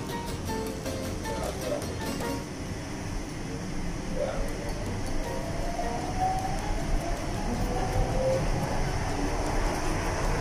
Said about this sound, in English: Sasakay ka ng train nila.